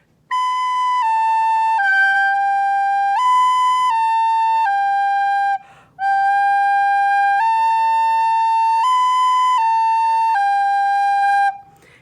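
A soprano recorder plays Hot Cross Buns without tonguing, so the pure, whistle-like notes slur together into long connected tones, two phrases separated by a brief breath, clear and close with no talking.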